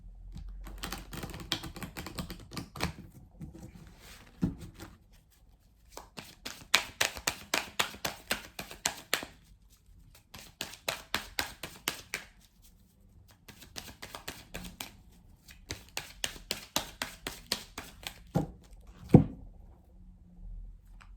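Oracle cards being shuffled and laid out for a six-card reading, with repeated bursts of rapid riffling and flicking separated by quiet pauses, close and fairly soft with no speech.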